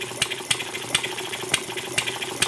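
A model hit and miss engine runs, warming up after months unused, firing in sharp regular knocks about every half second over a steady mechanical rattle and whirr, close and loud.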